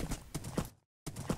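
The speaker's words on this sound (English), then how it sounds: "So let's ride the horse and kill." Horse hooves while riding a horse in a Minecraft-style live-action animation, a few quick clip-clop steps, close and clear, broken by a short silent gap before the steps resume.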